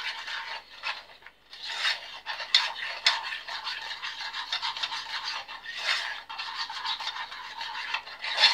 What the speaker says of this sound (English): give it a good old stir